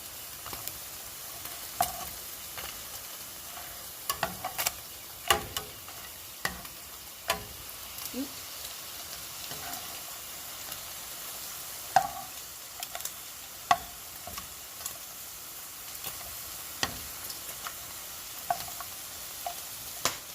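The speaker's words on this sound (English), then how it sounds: "Just keep rotating it until it's nice and at least roasted on all sides. And these tortillas are ready to be turned." Tortillas roast for chilaquiles in a pan with a soft, steady low sizzle, while a utensil turns them in scattered sharp taps and scrapes at irregular intervals, close but fairly quiet, with no voices.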